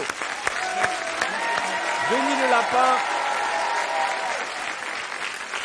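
Studio audience on a French TV talk show claps steadily for a rabbit, with a host's voice speaking over the ovation through much of it.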